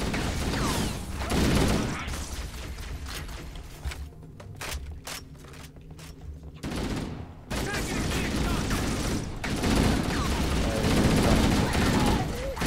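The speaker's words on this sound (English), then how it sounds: "The dudes behind me are shooting me worse than you are." Gunfire in the video game Halo CE: loud bursts of automatic fire and scattered shots crackle in clusters, with a brief quieter stretch of single pops in the middle, and players talk over it.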